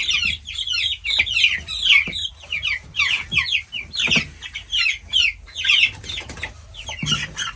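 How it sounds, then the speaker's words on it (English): Young meat chickens in a brooder cheep and cluck constantly in high, chattering bursts, close and loud, with occasional wing flaps and no talking. "they're so loud"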